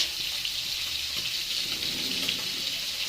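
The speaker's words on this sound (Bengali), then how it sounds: "আর মাছ ভাজাও হয়ে এসছে আর একটুখানি বাকি আর তিন পিস মতো বাকি" Fish sizzles steadily in a hot pan, an even, fairly quiet frying hiss that holds without pause for a few seconds.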